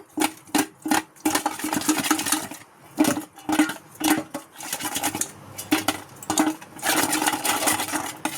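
Dal is mixed by hand with turmeric and salt in a kitchen, giving repeated wet squishing and clattering bursts against a bowl in an irregular rhythm, close and fairly loud.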